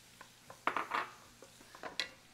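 Minced onion tipped into a pan with butter and olive oil on high heat for radish risotto: a handful of close clinks and a soft clatter against the pan, quiet and brief, with no talking.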